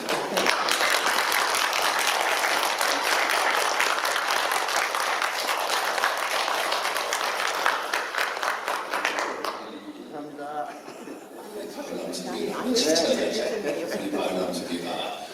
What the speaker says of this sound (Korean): 우리 젊은 사람들 전부 다 일어나서 한번 박수 한번 하도록 하겠습니다